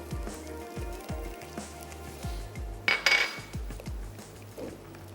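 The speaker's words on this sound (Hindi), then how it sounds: "तो दही ऐड करके अच्छी सी मिक्सिंग कर लेते हैं।" Yogurt being stirred into fish gravy in a pot, with a steady run of spoon scrapes and clinks against the metal, one sharper clatter partway through, and soft background music underneath.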